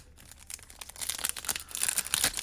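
Topps Chrome Football trading card packs are ripped open by hand, close crinkling foil and tearing that grows louder and busier toward the end, with no speech.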